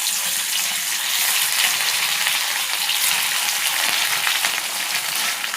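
Pieces of katla fish fry in hot mustard oil in a pan, a dense, loud, continuous sizzle that stays level throughout with no voices.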